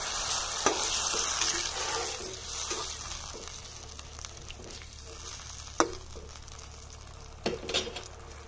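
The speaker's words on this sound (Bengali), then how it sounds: "এবার আমি অল্প করে জল দিয়ে দেব।" Splash of water added to egg curry masala in a hot pan, giving a steady sizzle and bubbling with a few sharp clinks of stirring, close and moderately loud, no talk.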